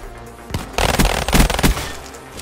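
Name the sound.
gunshots in a video game, headshot kill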